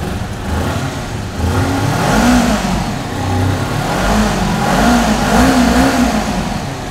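A Kawasaki Ninja 250 two-cylinder motorcycle engine revs up and down close by, rising and falling in pitch in a few surging swells, with a deep throbbing note underneath.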